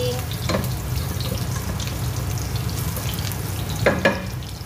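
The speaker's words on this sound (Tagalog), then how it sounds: "lalagyan natin ng oil. First po, oil muna yung ilalagay natin. Tapos, first, garlic." Garlic frying in oil for chicken afritada, a steady close sizzle throughout with a couple of brief stirring clatters, no talk.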